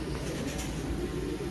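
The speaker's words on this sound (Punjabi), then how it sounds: "ਮਾਸ਼ਾਅੱਲਾ ਕਬੂਤਰ ਆ ਵੇਖ ਲਓ ਤੁਹਾਡੇ ਸਾਹਮਣੇ ਜੇ" Teddy pigeons at the Shahdara pigeon market in Lahore give soft, low cooing over a dense, steady murmur of background noise, with no clear talking.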